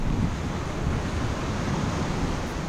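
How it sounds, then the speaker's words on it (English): Fast river water rushes through Mule Creek Canyon, a narrow basalt gorge in the Cascade Mountains. It sounds as a dense, steady, broadband roar, constant and fairly close, with no voices. "In Mule Creek Canyon, the water is rushing through there so quickly"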